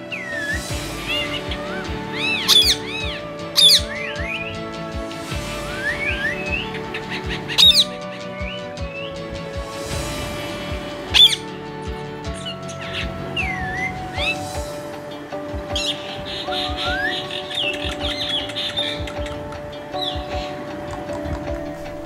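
A pet parrot gives short, sharp squawks and chirps at scattered moments over a steady layer of other background sound.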